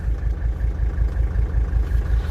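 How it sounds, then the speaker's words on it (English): A Mercedes-Benz 300TD W123 diesel engine idles roughly with a steady low, throbbing pulse and an uneven shake, heard close and loud with no talking. "it's definitely running, idling a bit rougher than it did the last time I drove it."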